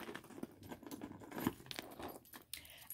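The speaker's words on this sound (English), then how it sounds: "I have my keys" A bunch of keys with a key fob jangles and clinks close by, in quick irregular rattles over about three seconds, with no talking.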